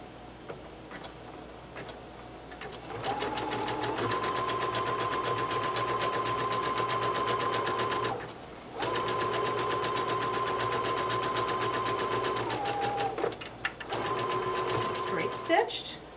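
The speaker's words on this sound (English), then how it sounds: "I change to a zigzag stitch. And a nice large zigzag all the way along this raw edge" Sewing machine running a large zigzag stitch along a raw fabric edge, a fast rattling hum sustained for several seconds, pausing briefly, then resuming and stopping again; a voice talks over part of it.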